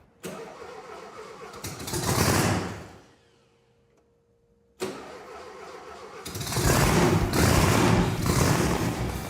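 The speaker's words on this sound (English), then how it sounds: "Turn the key, and it starts" A custom car's supercharged Volkswagen engine cranks and revs briefly, pauses in near silence, then cranks again and roars to life, running loudly and steadily.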